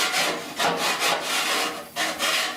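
A coarse-cut Snap-on file rasps across metal in repeated broadband strokes, roughly five even pushes, close and loud with no voice over it.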